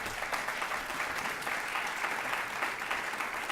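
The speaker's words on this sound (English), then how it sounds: "giving a big round of applause to the champions of change" Steady applause from a crowd at a White House ceremony, a dense wash of clapping that holds evenly throughout.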